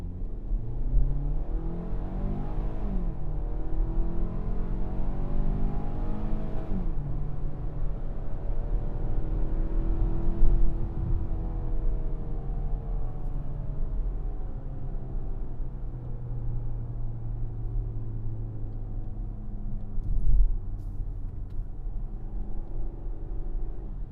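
A 2025 Hyundai Tucson Limited AWD accelerates from a complete stop, its engine droning steadily from inside the cabin with rising pitch through several smooth gear shifts, a moderate, continuous hum without talk.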